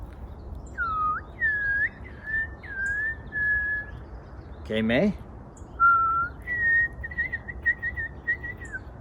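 A person whistles an imitation of the white-throated sparrow's "Old Sam Peabody" song, a series of clear, rising and steady notes in short phrases, with brief speech in the middle.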